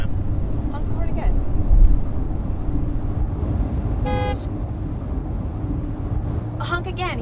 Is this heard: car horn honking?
yes